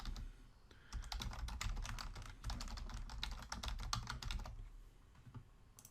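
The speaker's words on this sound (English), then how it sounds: "Then just enter the address you want to verify." Fingers type an email address on a computer keyboard in a fast, even run of close key clicks lasting several seconds, heard alone over a soft background hum.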